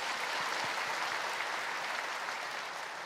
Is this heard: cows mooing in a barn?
no